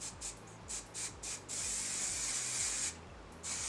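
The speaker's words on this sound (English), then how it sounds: "I'm going to go ahead and take my hairspray again and spray this side" A hairspray can hisses in several short bursts, then one long continuous spray, followed by another short burst, close up.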